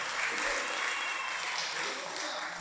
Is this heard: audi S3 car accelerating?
no